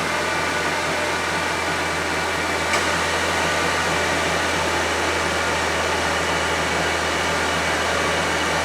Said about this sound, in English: Wait for the compressor to kick on here.